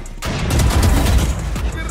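Rapid gunfire from the Aim Lab aim-training game, a dense run of loud, overlapping shots that carries on through the whole clip, with no gaps between the bursts.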